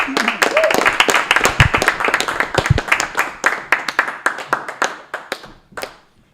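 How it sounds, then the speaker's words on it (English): A comedy club audience applauds a stand-up comedian, a dense burst of clapping that thins into scattered individual claps and fades out near the end, with a voice briefly heard early on. "Keep it going for Ben Rose, ladies and gentlemen"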